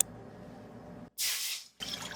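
Water pours into a pan to start a blue curacao syrup with sugar, arriving as one steady splashing gush of about half a second, then a brief pause and a softer continued pour, close and clear with no voices.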